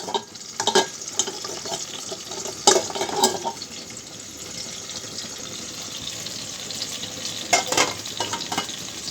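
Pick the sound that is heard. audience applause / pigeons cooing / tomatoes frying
tomatoes frying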